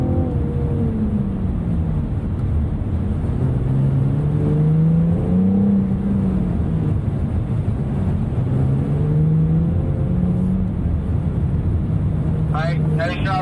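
A BMW M4 440i driven hard on a race track, its engine note rising and falling through gear changes and corners for the whole stretch, loud and close, with a steady rumbling drone underneath.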